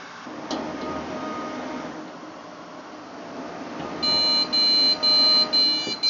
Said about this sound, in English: That beeping sound it was making, by the way, is because it's got no boot drive.